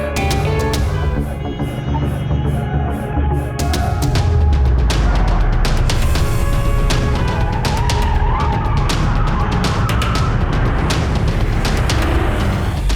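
A car speeds along in a movie car chase, its engine roaring loud and continuous while tires skid. Sharp impacts and dramatic chase sounds layer over it.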